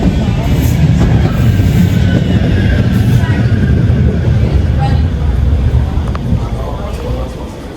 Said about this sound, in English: I think the tram's due. Yeah, now here it is, Media City tram.